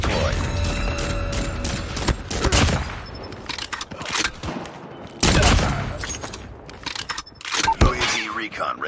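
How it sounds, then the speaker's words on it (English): Sentry gun in a Call of Duty multiplayer match: mechanical clatter and ratcheting of the turret deploying, then bursts of rapid gunfire among loud game effects, with a voice speaking over the action. "Sentry gun deployed."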